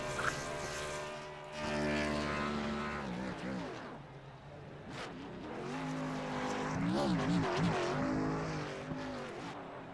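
Race car engines in a sim racing game at Martinsville roar continuously through a victory lap, pitch rising and falling with each gear shift and corner, loud and steady.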